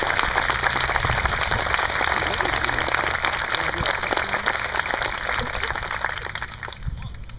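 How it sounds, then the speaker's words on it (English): Sustained applause from an audience honoring soldiers at a family day ceremony, a dense steady patter of many hands clapping together that fades slightly toward the end. "Please join me in giving all these soldiers an additional round of applause."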